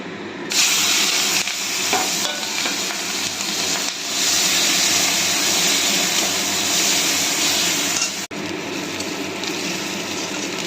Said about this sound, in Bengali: ফোড়নে দিয়ে দেবো শুকনো লঙ্কা, কালো জিরা, এখানে লঙ্কা, পেঁয়াজ, রসুন।